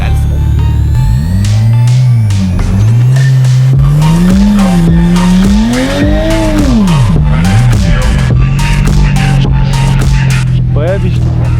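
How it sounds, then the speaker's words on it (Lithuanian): A car spins its wheels in a loud burnout, the engine revving up and down while the tires squeal continuously and close by. "Tu pafilmuok mane prie visų, aš praversiu ratus."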